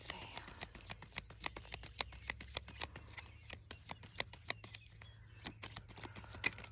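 A deck of oracle cards is shuffled outdoors, a rapid run of crisp riffling snaps close by over faint background noise.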